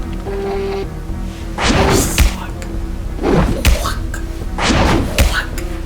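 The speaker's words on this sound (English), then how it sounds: "It's the sound of my foot kicking Kyle's face." A foot kicking someone's face, heard as three or four heavy thumping impact hits spaced about a second apart over a low steady background hum.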